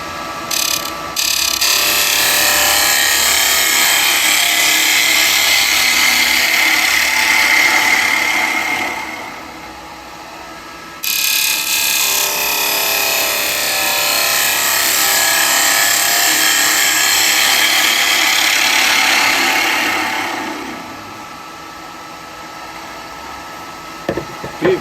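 Elm burr turning on a wood lathe with an SCH2 carbide chisel, a loud steady whirring and scraping hiss that fades twice as the tool lifts away, close and continuous with no talk.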